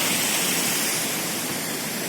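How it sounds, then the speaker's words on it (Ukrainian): A small waterfall rushes steadily nearby, a dense continuous hiss of falling water with no other sounds. "Водоспадок."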